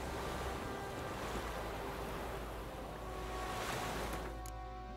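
Water waves in The Witcher 3, an unbroken rushing wash of surf with a light breezy hiss, steady and moderately loud, cutting off abruptly near the end.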